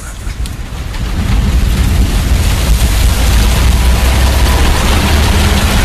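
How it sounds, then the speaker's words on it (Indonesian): Steady, heavy rain pours continuously, a dense low rumbling wash that swells slightly after the first second and holds at a loud, even level. "Yang ku dengar kini hanya suara derasnya air hujan dari luar."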